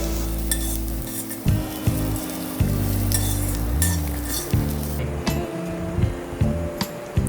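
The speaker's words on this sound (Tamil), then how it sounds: "நல்லா பொன்னிறமாக வர்ற வரைக்கும் வதக்கிக்கோங்க." Onions sauté in a pan toward golden with a constant sizzle beneath repeated scraping and clinking spatula strokes against the metal, close and busy, with occasional light knocks and no voices.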